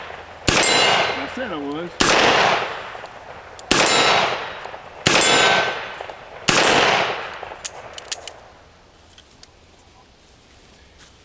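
Five loud, evenly spaced shots from a Henry Big Boy .357 revolver fired double action at a steel target, each a sharp crack with a ringing metallic ping, followed by a brief spoken remark.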